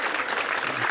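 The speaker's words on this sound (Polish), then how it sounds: "Duże brawa, duże brawa," Dense, continuous applause from a studio audience at a Polish anniversary celebration as women candidates are presented, a short burst of steady clapping.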